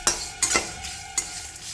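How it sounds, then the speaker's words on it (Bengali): Curry leaves stirred and sizzling in a pan over a low flame while sambar masala is prepared, with soft steady frying hiss and three sharp scraping strokes of a spoon against the pan, close and alone. "কারি পাতাটা দিয়ে খুব ভালোভাবে এইভাবে একটু নাড়িয়ে চাড়িয়ে নেবো।"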